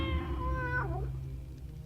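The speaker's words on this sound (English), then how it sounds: "That's a cat?" A cat meows in the dark fantasy video game Tormentum, one clear drawn-out call that falls in pitch and fades, heard alone against a low ambient backdrop.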